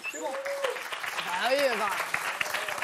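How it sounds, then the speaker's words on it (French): Applause rises under voices speaking over it, with a steady patter of clapping running throughout. "On applaudit"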